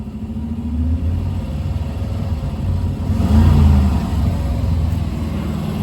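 A 1967 Plymouth Barracuda with a freshly rebuilt Carter BBD carburetor, a barn find revving hard with a loud, steady engine drone that swells around the middle, then hangs high before easing back slightly, heard alone.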